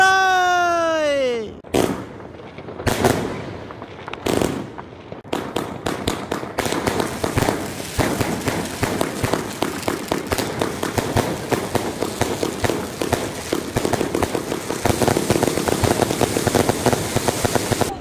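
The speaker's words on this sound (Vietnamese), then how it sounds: "Nghe thấy tiếng pháo giòn giã từ tất cả các mọi nơi." Firecrackers crackle nonstop at a company New Year 2023 celebration, a dense, loud rattle of rapid pops and bangs lasting many seconds after a few opening whistles and booms, with faint voices in the background.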